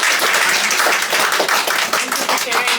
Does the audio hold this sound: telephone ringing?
no